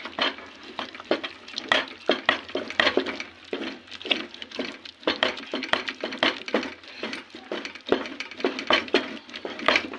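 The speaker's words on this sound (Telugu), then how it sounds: "మనం స్మాష్ చేసుకున్న చికెన్ పప్పు గంట అంతా కలిపేసుకుందాం" Mashed chicken and lentils for haleem are stirred together in a pot, with steady scraping and clinking of a spoon against the metal in a continuous rhythm, close and fairly loud, no talk.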